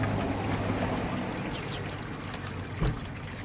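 Water poured into a container for rooting strawberry plant runners, a steady broadband pouring stream lasting throughout, close and moderately loud, with one brief louder splash or knock near the end.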